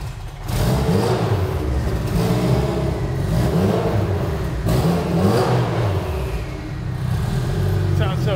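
A turbocharged Honda K20 swapped into an NSX street-driven time attack car with a dogbox revs up warm, rising and falling in a few strong surges close by, with people talking over it.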